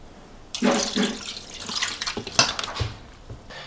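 Soy sauce is poured from a bottle into a pot during meal prep: a close, splashy liquid stream starts abruptly, gurgles unevenly for about two seconds, then trails off in a few drips.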